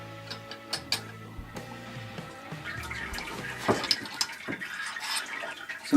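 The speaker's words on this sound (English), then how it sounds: "So now it's lifted up, and as you can hear, sparging through the grain." Sparge water running through the grain bed during a home brew of imperial stout, with trickling and dripping over ticking and clanking equipment noises, fairly close and irregular, without speech.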